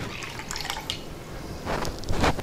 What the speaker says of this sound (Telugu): పప్పు ఉడకటానికి సరిపడినంత నీళ్లు పోసుకుందాం.